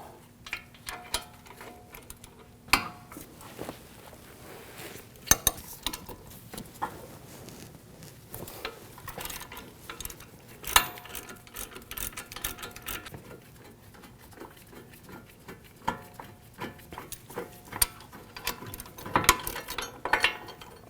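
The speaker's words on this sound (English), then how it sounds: "Use a 15mm socket, take these two bolts out." A ratchet with a 15mm socket works loose the brake caliper bracket bolts on a 2001–2009 Volvo S60 during front hub replacement, producing quiet repeated clicking runs and sharp metallic knocks at close range.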